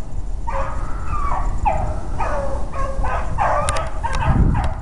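A pack of beagles bays and yelps together in a steady overlapping chorus, carrying from a little way off over a constant low rumble of wind or motion.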